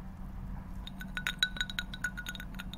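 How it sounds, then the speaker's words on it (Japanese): Ice cubes clink against the glass of an iced coffee: a quiet cluster of light, irregular taps and rattles over a low room hum, with no voices. "このアイスコーヒーの氷の音がいいですね。"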